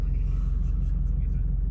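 A Nissan Pathfinder 2.5 TDI Tekna 4x4 diesel engine idles steadily, a low even rumble with a regular throb, close and constant throughout.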